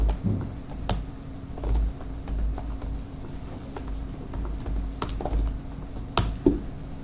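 Typing on a computer keyboard during a university lecture, with scattered quiet key clicks and a few sharper taps over steady room hum, no talking.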